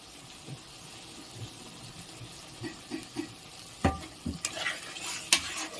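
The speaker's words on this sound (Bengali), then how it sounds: "এবারে এইটিকে ভালো করে কষিয়ে নেব" Chhana dalna with cashew paste and khoya kheer is sautéed and stirred in a pan, heard as a faint sizzle that builds into several close scraping strokes near the end.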